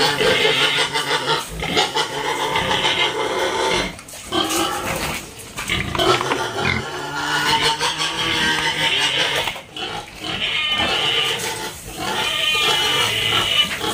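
Pigs, including sows, grunting and snorting up close, mixed with clanking and pen noise in a busy, loud farm setting.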